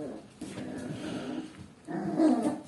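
Dogs at home give a few soft, muffled barks and whimpers, faint and somewhat distant, with a louder burst near the end.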